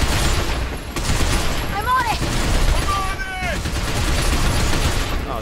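Rapid gunfire from the video game Binary Domain crackles in dense bursts, loud and close, with whistling tonal effects sweeping through and voices talking over the shooting.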